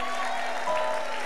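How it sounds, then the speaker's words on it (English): Audience applause for singers and instrumental musicians at a church service, brief dense clapping over a faint sustained tonal hum from the instruments. "Can you give, again, our singers and everybody playing instruments a big clap?"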